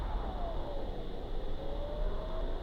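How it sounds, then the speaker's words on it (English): A Boeing 777 engine in the flight game Extreme Landings Pro holds a steady, loud, broadband roar with a faint whine sweeping down, continuous and alone without talk. "so I'm going to turn this engine down"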